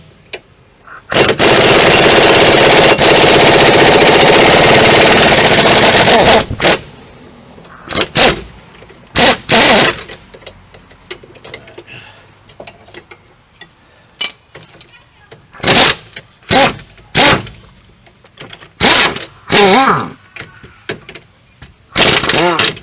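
Impact wrench driving a straight chrome socket with no extension, breaking bolts loose on a car lift install: one long loud sustained burst of hammering rattle, then a series of short sharp bursts separated by pauses.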